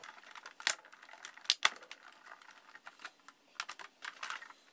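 A Big Shot die-cutting machine crank-feeds a layered square and scalloped paper frame through its rollers, giving a faint, close run of irregular clicks and small ratcheting snaps with quiet gaps between them.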